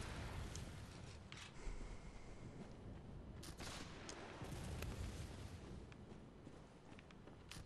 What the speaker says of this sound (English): The guy's up top shooting at me.